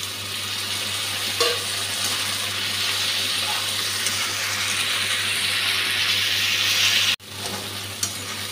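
Tomato and half-fried onion sizzle and fry in a pan, a steady loud hiss with occasional stirring scrapes and a brief clank near the end.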